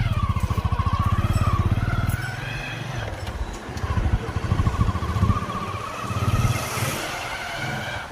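A motorcycle engine drones steadily nearby while riding, its pitch rising and falling slightly, with wind rush throughout.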